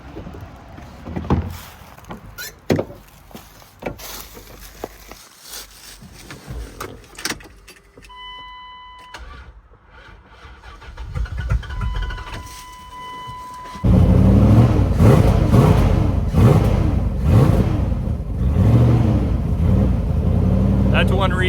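A Dodge Durango that has sat unused for a while gets keyed on: clicks and dashboard chimes, then the engine cranks, catches and runs loud and rough, revving unevenly. People talk in the background throughout.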